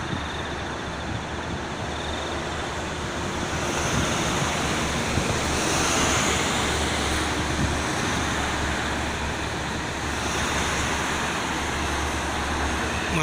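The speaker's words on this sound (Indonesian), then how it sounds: "Ini anginnya teman-teman pada pagi ini lumayan kencang" Strong morning wind roars at the roadside of the Jakarta–Cikampek toll road, a loud steady rushing wash blended with passing traffic.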